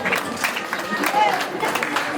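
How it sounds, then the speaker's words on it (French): Audience applause in a classroom or hall after a French-language lesson, a short run of dense mixed clapping with a murmur of voices beneath it. "Vous applaudissez alors. Applaudissez."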